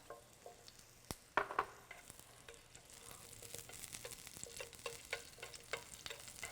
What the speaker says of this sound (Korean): 마늘이 앞뒷면이 좀 노릇해지면 아까 손질해 뒀던 아스파라거스를 마저 넣어줄게요.